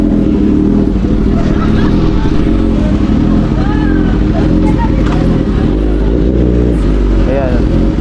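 A motorcycle riding on a road, its loud, steady engine drone and wind rumble running throughout, with a person talking over the ride.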